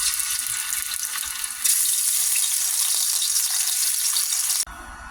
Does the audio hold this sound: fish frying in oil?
yes